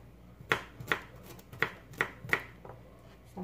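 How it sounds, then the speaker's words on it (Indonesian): A knife slices garlic for a chili egg dish, heard as five or six crisp, evenly spaced cuts against a board, close and fairly quiet, with softer taps trailing off at the end. "Mau ngiris ininya ya, bawang putihnya."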